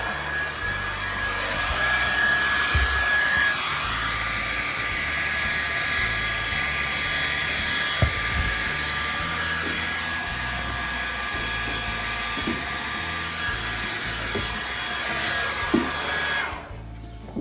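A hair dryer blows steadily with a constant whirring hum, continuing loud and unbroken before cutting off near the end.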